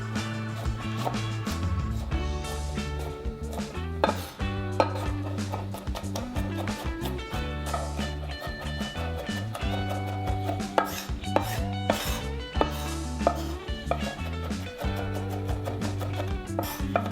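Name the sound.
rough chopping garlic cloves with a knife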